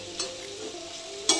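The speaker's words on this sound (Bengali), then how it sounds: "এরকমভাবে 5 মিনিট পেঁয়াজটাকে ভাজতে দিন।" Onions fry over a high flame for a chicken dish, a constant close sizzle broken by two sharp scraping clatters of stirring, one early and one near the end.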